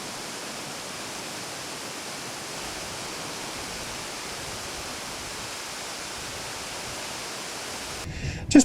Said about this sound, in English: I came across a lovely little waterfall at the top of the pass